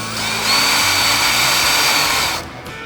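A power driver with a T27 bit whines steadily while backing a windshield screw out of a Lowrider ST, a close, loud motor drone lasting a couple of seconds before spinning down.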